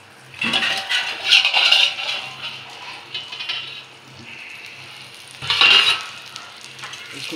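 Green chillies sizzle and fry in a pan while being stirred, with two louder bursts of scraping and hissing as the spoon moves through them over a steady soft crackle.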